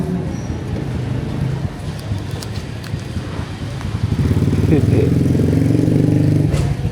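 A motorcycle engine runs steadily close by, its rumble building louder midway and holding with a throaty drone, with no speech over it.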